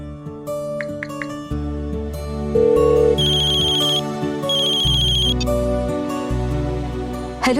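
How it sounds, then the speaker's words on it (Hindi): A phone ringtone plays while a call is placed: a loud, bright electronic melody of repeating tones and chimes, continuous and alone with no voices. "अब सत्तू को फोन कर लेते हैं"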